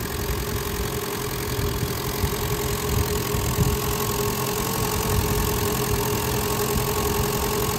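A 1968 Renault R4 engine idles steadily, a continuous close mechanical hum with a faint ticking, loud and unbroken from start to finish with no one talking.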